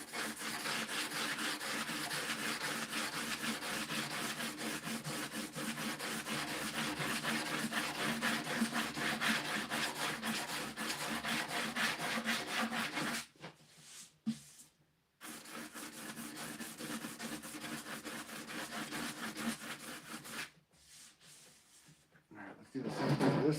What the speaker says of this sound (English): these soft sanders are the ticket for this kind of a curved shape, where it's kind of flat, but kind of not